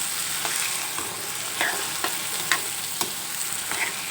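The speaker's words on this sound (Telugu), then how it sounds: "పప్పు జీడిపప్పు ఇవి బాగా కలుపుకోవచ్చు" Chana dal and raw cashews stirred in a frying pan over a steady sizzle, with regular close clicks and scrapes of the spoon about twice a second.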